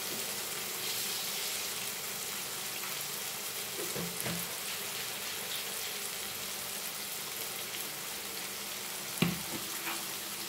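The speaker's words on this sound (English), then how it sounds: "So we'll saute masala with this." Masala sauteing in a pan for Goan-style caldeen, a steady close sizzle running throughout with occasional stirring scrapes and a sharp clink near the end.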